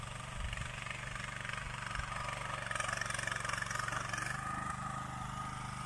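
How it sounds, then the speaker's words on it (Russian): A tractor engine drones steadily and fairly loud while digging potatoes in a soft fertilized garden plot, a continuous mid-pitched rumble with slight wheel-slip variations throughout. "и трактор даже с пробуксовкой идет"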